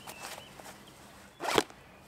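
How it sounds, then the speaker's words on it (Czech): A Direct Action Horizontal MK III IFAK pouch's zipper is pulled open in two quick, close rasping strokes: a short soft run first, then a louder, sharper zip near the end, with no talking. "Ten zip je opravdu udělaný tak, že to vezmete a můžete to normálně otevřít."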